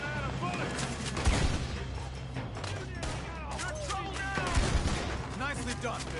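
Gunfire rattles through a Red Dead Redemption 2 shootout, a dense continuous fusillade with louder bursts near the start and again toward the end, mixed with game noise and voices.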